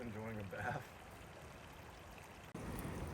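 A small woodland waterfall trickling and splashing in spring, a soft continuous pouring wash heard close, with a brief voice at the start.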